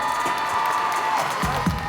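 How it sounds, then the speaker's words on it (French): Audience at a French talent show competition cheering and applauding its four qualified finalists, a steady crowd roar with a few higher whoops rising near the end. "On les applaudit bien fort."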